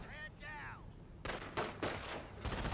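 Bursts of German MG42 machine-gun fire rattle across the battlefield in Company of Heroes, several rapid volleys following a few whistling, chirping sounds, moderately distant and rising and falling in loudness.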